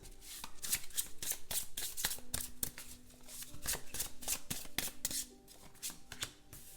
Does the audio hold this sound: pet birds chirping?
no